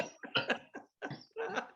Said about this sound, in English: just like coughs a lung out